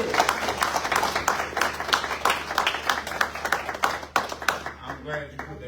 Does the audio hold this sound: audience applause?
yes